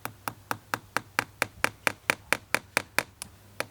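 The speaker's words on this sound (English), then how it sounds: "if I drive a nail now through this stem" A very light hammer tapping a nail into a living tree stem: about sixteen crisp, evenly spaced strikes, close and clear, each a short bright knock with a quick decay, steady rhythm from start to finish.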